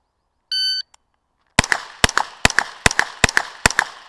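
A pistol caliber carbine fires a rapid string of sharp, loud shots at a USPSA match, about eight cracks in quick rhythm after a brief electronic start beep.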